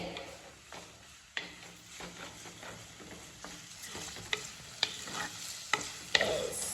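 Masala fries and roasts in hot oil with a soft continuous sizzle, while a spoon scrapes and taps the pan in irregular clinks and strokes close by.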